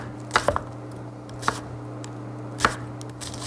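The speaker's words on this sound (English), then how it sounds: "It also helps you judge how big the slices are going to be. And then just cut the other way." A knife chops onions on a cutting board in a few sharp separate knocks, close and clear over a low steady background hum, no speech.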